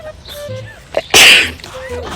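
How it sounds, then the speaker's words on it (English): One sharp, loud human sneeze bursts out close by, set between quieter breathing and brief talk. "I just sneeze."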